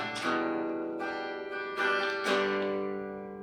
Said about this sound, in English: this is just the sound of the strings being recorded from the camera audio